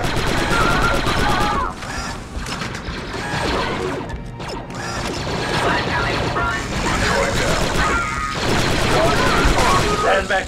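Rapid blaster fire in the Star Wars Republic Commando video game, dense bursts of mechanical gunfire that fill most of the clip, loud and close, with short gaps between volleys.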